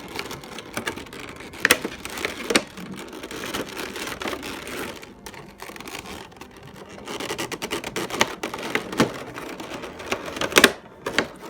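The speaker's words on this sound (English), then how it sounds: "let's get this bad boy out of its packaging" Godzilla 1989 action figure comes out of its packaging with scattered plastic crinkling, rustling and clicking handling noises, close by and irregular, with no talking.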